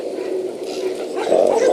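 A small male dog in a backyard kennel gives soft whining yips and a light bark, close and moderately loud, over steady outdoor background noise.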